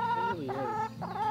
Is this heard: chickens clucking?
yes